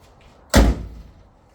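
A single solid thump as the rear door of a Nissan Gloria Cedric Y32 swings open, close and loud, with a short muffled tail.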